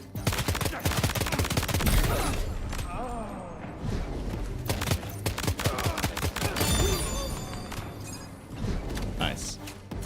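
Rapid semi-automatic gunfire in the video game Death Stranding 2: loud, close bursts of sharp shots come in quick clusters over ten seconds, broken by mechanical clanks and thuds.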